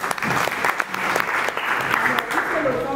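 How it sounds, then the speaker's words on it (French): At a youth leadership and entrepreneurship training session, a room of participants applauds steadily for about three seconds, with some voices mixed in. "applaudissez pour vous"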